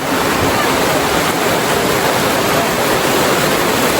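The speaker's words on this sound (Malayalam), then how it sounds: "മുറ്റം നല്ല മഴ പെയ്തിട്ട് പെരും മഴ കേട്ടോ" A downpour of heavy rain on a house courtyard in Kerala roars without letup, a thick, even wash of noise close by.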